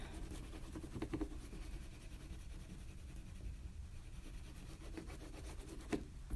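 Oil pastel or crayon scrubs against paper in small circular strokes, a faint continuous rubbing with soft rhythmic scratches, close up and without talking.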